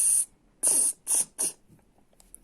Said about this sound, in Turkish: Bu sprey herhalde.